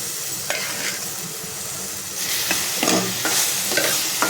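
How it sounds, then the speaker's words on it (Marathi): Cooked shevla, a wild forest vegetable, being sautéed in masala, with a soft sizzle under repeated stirring scrapes and clacks of a spoon against the pan, growing busier toward the end. "आणि मसाल्यामध्ये परतून घ्यायचे"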